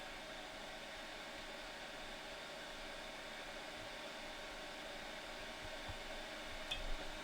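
Hot air station blowing onto solder on a game controller circuit board: a faint, steady airy hiss and fan hum running throughout, close and alone.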